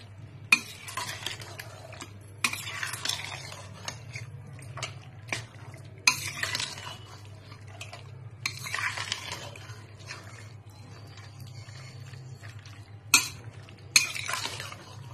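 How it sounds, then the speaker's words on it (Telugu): Ingredients with half a glass of water being stirred in a pan, giving a string of scraping, clinking bursts over a steady low hum, with no talk. "ఇవన్నీ వేసేసి మొత్తం దీన్ని బాగా కలిపేసేయాలి"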